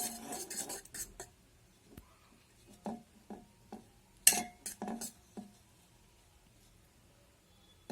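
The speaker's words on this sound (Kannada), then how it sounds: "ಗೈಸ್ ಇದನ್ನು ಚೆನ್ನಾಗಿ ಮಿಕ್ಸ್ ಮಾಡ್ಕೋಬೇಕು." A utensil clinks and scrapes against a bowl while eggs are mixed with fried vegetables for a vegetable omelette, in irregular taps and stirring scrapes, some louder than others, with no voices.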